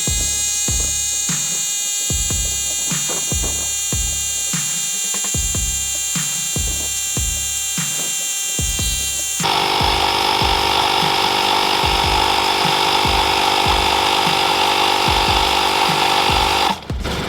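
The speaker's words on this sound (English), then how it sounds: "pumping air into the tire" A small portable car air compressor pumps air into a tire with a loud, fast, rapidly pulsing piston chatter that runs steadily. Partway through it shifts to a harsher, brighter motor whine, close and alone.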